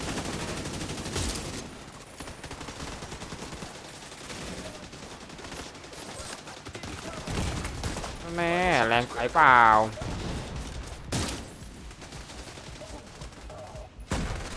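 Gunfire in The Division 2 comes in loud bursts and rapid volleys over a noisy in-game battle, with people talking over it.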